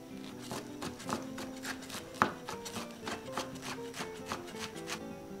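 Knife chopping vegetables on a cutting board while preparing beef stew noodle soup (hủ tiếu bò kho) with celery, a steady run of crisp, evenly spaced strikes at close range, moderately loud with no talking.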